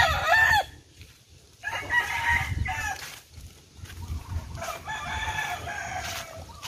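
A rooster crows loudly nearby, followed by more crowing and clucking from other chickens, with no talking.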